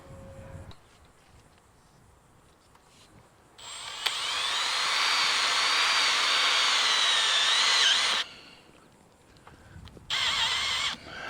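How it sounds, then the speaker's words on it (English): A power driver whirs for several seconds, then gives a second short burst, as a purlin is bolted onto the end bow of a Quonset greenhouse with a conduit strap. Quiet background surrounds the bursts. "we're going to bolt it onto your end bow there."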